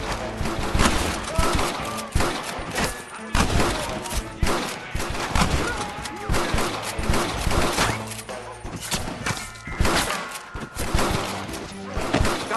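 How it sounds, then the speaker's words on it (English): Loud, dense gunfire from a Red Dead Redemption shootout, with rapid overlapping shots and bursts that keep crackling for the whole stretch, mixed with thuds and game action. "Open fire!"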